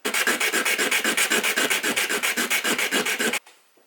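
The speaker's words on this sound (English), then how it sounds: "Got that all sanded it down to 220 grit" A wooden swimbait lure is sanded with 220 grit sandpaper in fast, rhythmic back-and-forth rasping strokes, loud and close, about two dozen passes before it stops abruptly.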